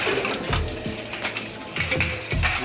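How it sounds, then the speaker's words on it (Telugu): A plate is washed under a running tap at the Gorakhnath temple in Gorakhpur: steady splashing water with a few heavier gushes and scrubbing bursts, close by and with no talk. "ఇక ప్లేటు ప్లేట్ ఇప్పుడు కడగాలి కడిగి మన ప్లేట్ మనమే శుభ్రం చేసుకోవాలి"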